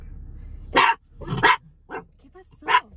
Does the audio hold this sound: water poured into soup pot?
no